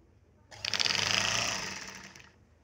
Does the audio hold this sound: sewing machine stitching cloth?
yes